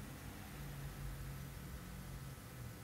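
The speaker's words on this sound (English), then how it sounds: "Can you hear the humming of the transformer?" Low mains hum from a UPS transformer after being switched on, a steady buzzing drone with faint harmonics beneath a broad hiss, continuous and fairly quiet throughout.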